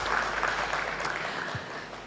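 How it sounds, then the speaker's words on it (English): An audience at a live business partner meet gives a short round of applause, steady clapping heard from a crowd at a moderate distance for about two seconds. "can we have a big round of applause for Charu here?"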